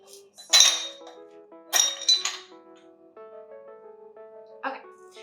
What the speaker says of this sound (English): I'll just try to get the ice back in this one so it doesn't melt all over the place.